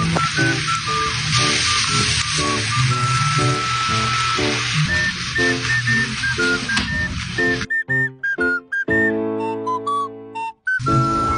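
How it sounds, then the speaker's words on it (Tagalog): Garlic pepper beef frying in a pan gives a close, steady sizzle, overlaid by recurring high whistling tones, then brief pauses and clatter near the end. "ito nga palang niluluto ko ay garlic pepper beef ng Mala Jollibee"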